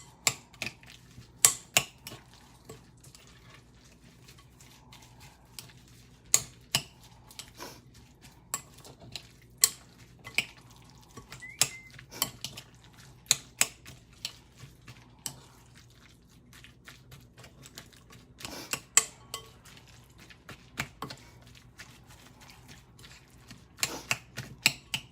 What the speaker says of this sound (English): I'm going to stir this all together